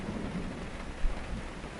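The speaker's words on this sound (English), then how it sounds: "That's what that lightning sounded." Thunder from a lightning storm in the video game DayZ, a low steady rumble with rain noise, one slightly stronger swell near the middle, moderately loud with no talk.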